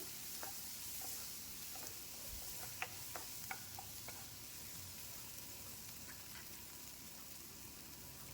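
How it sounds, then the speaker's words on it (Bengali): Chopped ginger and green chili frying in a pan, giving a faint, steady sizzle with occasional soft clicks from a spoon, heard quietly and without voices. "আদার কুচোটা দিয়ে একটু ভাজতে হবে আর সাথেও দিয়ে দিচ্ছি লঙ্কাটাও দিয়ে এইবার ভাজবো"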